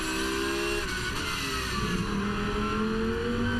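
GT Masters race cars at Zandvoort growl past in a steady stream, engine notes rising and overlapping at moderate distance with no gaps between cars.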